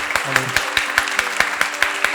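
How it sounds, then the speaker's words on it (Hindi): Audience applause at a community meet-and-greet in Mumbai: a small crowd claps in a quick, regular rhythm, with a sharp clap cutting through roughly every fifth of a second and a brief voice early on. "तो एक बार जोरदार तालियां"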